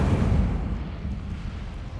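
A fire spell cast in a Harry Potter video game, heard as a loud, roaring burst of flame that rumbles on steadily for about two seconds with no voices over it.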